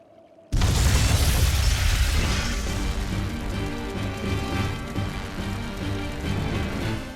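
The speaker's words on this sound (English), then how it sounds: "Tools of flamestone, sulfur, and oil. Those will explode." A blast of flamestone, sulfur and oil in the Tales of Berseria game erupts suddenly after near silence, a loud booming explosion that decays into a sustained rumbling roar with crackling debris for several seconds.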